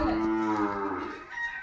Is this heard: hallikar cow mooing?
yes